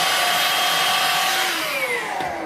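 A Dyson DC03 vacuum cleaner runs loud and close with a whining motor hiss, its pitch sliding down slightly as it picks up dirt, with no talk.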